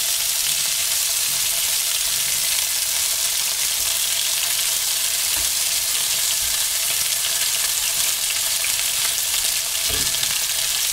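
Sausages sizzling steadily in a frying pan, a loud continuous crackle and hiss throughout with occasional soft pops, close up and with no talking.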